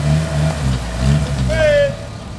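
An off-road vehicle's engine drones and revs under throttle, loud and continuous with a rising whine near the end, while a person shouts over it.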